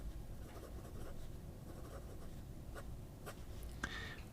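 A Conway Stewart fountain pen with a springy 18 karat nib writes on paper, giving a faint close scratching and a few light taps in a quiet room.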